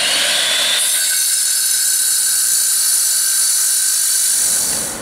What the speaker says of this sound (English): They finished sawing.